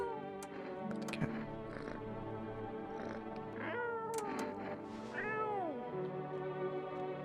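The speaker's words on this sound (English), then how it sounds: "Let me talk to the cat." A cat in the video game No, I'm Not A Human meows a few times, with two drawn-out, falling meows standing out clearly over a low, steady background hum.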